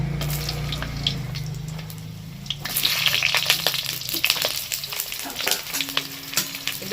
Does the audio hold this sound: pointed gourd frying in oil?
yes